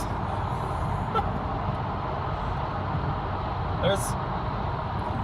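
Inside a BMW on a busy road, a steady broadband rumble of traffic and road noise fills the cabin, with a brief faint hiss and squeal near the end.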